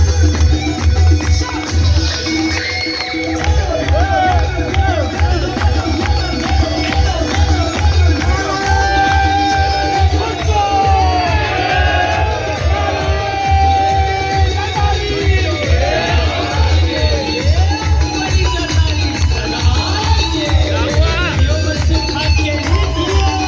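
A loud crowd at a founding-day celebration in Karachi shouts and chants slogans continuously, with voices and cheers layered densely throughout.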